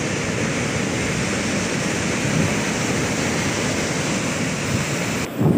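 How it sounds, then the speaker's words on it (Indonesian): Sea waves wash steadily onto a tidal shore as a continuous broadband roar, loud and close, with gentle swells in intensity and no voices. "di sini ombaknya sudah mau mendekat"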